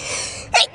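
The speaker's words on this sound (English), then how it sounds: "I hope I don't start sneezing during dinner also." A single close, loud human sneeze indoors, a sharp burst preceded by a breathy intake, in a room filled with scented candles.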